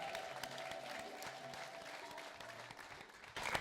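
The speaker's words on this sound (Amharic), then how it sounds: "እልልታ ጭብጨባ ለኢየሱስ ክብር" A church congregation breaks into applause and ululation during a prophetic worship service, a sustained, fairly faint wash of many clapping hands with a thin high trilling cry above it, swelling louder near the end.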